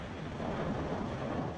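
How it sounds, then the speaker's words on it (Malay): Steady broadband rain falls outside a building during an evening religious lecture, a continuous dense hiss with low rumble and no distinct drops, loud and unbroken throughout. "Semua malam ni saya kena kuatkan suara sebab hujan kat luar."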